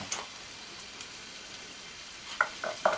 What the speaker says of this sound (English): I'm going to put some... some green beans in.